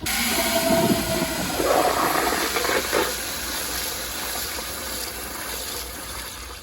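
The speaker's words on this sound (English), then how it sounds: "here's a weaker flush" A Kohler Primary toilet gives a weak flush with the water pressure turned down, a steady rushing gush that swells briefly and then settles into a long, even wash of water close by.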